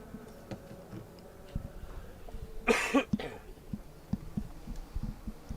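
A single person's cough bursts out once, close and loud, amid a quiet outdoor rally-stage background with faint ticks and rustles.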